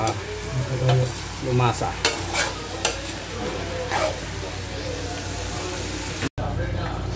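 A spoon stirs adobo in a sizzling pan after soy sauce goes in, with scraping strokes and clinks over steady frying hiss while someone talks briefly.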